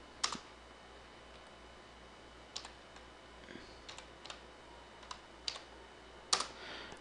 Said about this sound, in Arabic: بعد كذا راح نكتب الباسورد تبعه مثلا 123 مثلا